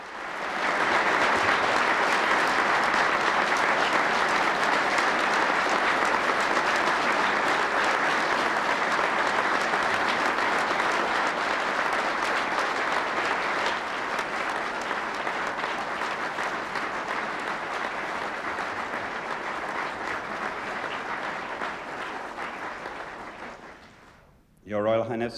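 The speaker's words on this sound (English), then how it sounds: "And they burst into thunderous applause." A large audience breaks into sustained, thunderous applause that fills the whole stretch, dense and steady before tapering off near the end, at a formal gathering marking a royal constitutional announcement.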